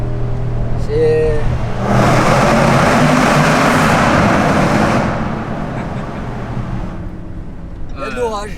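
A Range Rover SVR engine revs hard, a loud, broad roar that swells for about three seconds and then fades back to a lower rumble, with voices talking before and after.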